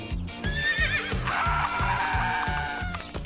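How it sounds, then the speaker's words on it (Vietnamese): A cartoon horse neighs with a long, wavering whinny over a steady, rhythmic clip-clop of galloping hooves, loud and close. "Cứu, chú ngựa đang đuổi theo mình."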